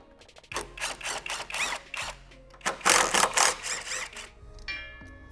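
A power tool whirs in short bursts while removing fasteners from windshield hardware on a Jeep Wrangler JK, about six or seven brief spins with pauses between, close and fairly quiet.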